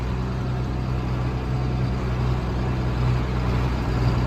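Steady low drone of a 1992 John Deere 4055 tractor engine pulling along a highway, heard from the cab as a continuous, even hum with slight swells as it picks up speed.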